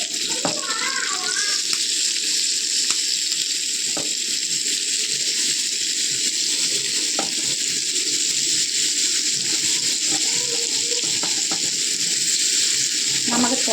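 Fish frying in a pan of hot oil with curry leaves gives a steady, loud sizzle that runs unbroken throughout, with a few faint clinks and light background sounds beneath it.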